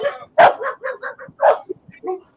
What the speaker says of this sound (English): I'm hearing a dog. Yeah, my neighbor dogs.